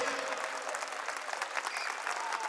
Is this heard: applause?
yes